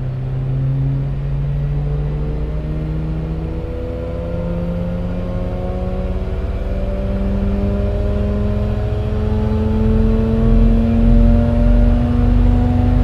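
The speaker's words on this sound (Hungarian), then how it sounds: "Megvolt a mérés, gyönyörű hangja van az autónak." A Wankel rotary-engined car revs on a dynamometer, its loud, steady, buzzing drone climbing gradually in pitch as revs build across the whole stretch, with no talking.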